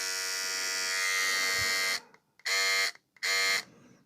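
A Braun Silk-épil 9 epilator runs with its shaver head fitted, giving a loud, close, steady electric buzz that then stops and restarts in two short bursts.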